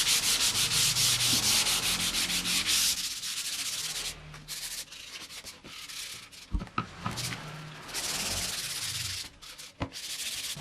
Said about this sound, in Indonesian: setelah kering kita amplas dengan amplas yang halus